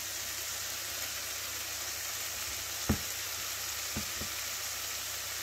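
Chicken curry bubbles and sizzles in a pan, a steady close hiss of simmering with a few soft knocks from a utensil partway through, and no voices.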